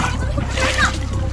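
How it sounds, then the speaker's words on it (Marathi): Seawater at a coastal fort beach sloshing around someone wading knee-deep, a brief close splash under someone talking. "आणि आता बघू शकता पाण्याचा आवाज तुम्हाला ऐकायला येतो कदाचित."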